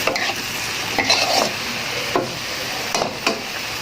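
Stir-fried pumpkin with duck egg and basil being stirred in a pan, with repeated scraping strokes of a utensil against the metal over a soft continuous sizzle, close and clear, no voices.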